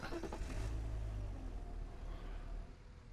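Engine of a car being driven in the video game Car Dealer Simulator, revving up briefly at the start and then settling into a steady mid-pitched hum, fairly close and with no talk.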